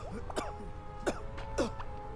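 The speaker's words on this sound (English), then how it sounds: "she's coughing up" Cartoon pony from My Little Pony: Friendship Is Magic coughing in three separate raspy bursts, each short and fairly close, with no talking.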